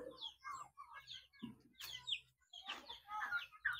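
Bird calls from a turkey on a rural Philippine province farm: several short, bright, clucking and chirping cries in quick bursts at moderate distance, with quiet gaps between them and no talking.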